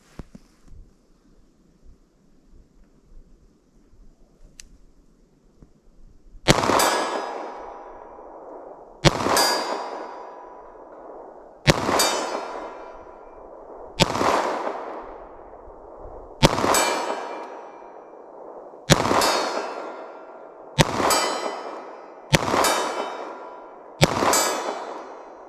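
Nine pistol shots from a 4-inch Ruger Security 9 fired at a steel target from 50 yards, each a sharp crack with a ringing metallic clang, spaced a couple of seconds apart after a quiet stretch, outdoors and moderately loud.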